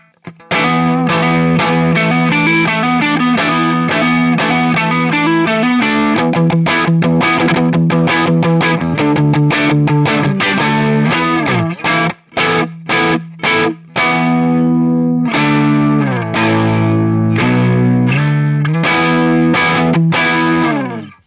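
A Harley Benton DC DLX SG-style electric guitar on its neck pickup drives a Plexi-style amp, playing loud overdriven chords and riffs with a warm, thick tone, switching between sustained strums and choppy, staccato hits.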